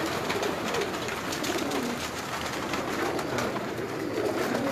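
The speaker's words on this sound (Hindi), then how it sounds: "इनको स्लेटर टाइप कबूतर कह सकते हैं।" Soft, steady cooing of slate-type pigeons with a busy background of rustling and chatter, continuous throughout without clear pauses.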